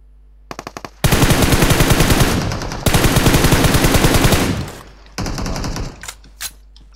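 Bursts of rapid automatic gunfire ring out in a PUBG Mobile match on the Livik map, with a few single shots, then two long loud volleys and a shorter burst, with a brief pause between them.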